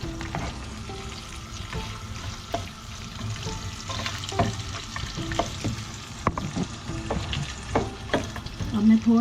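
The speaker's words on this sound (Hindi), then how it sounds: "ये डाल कर फ्राई करूँगी।" Food frying in a pan for Punjabi yakhni pulao, a steady close sizzle broken by the scrape and clatter of stirring, with no voices.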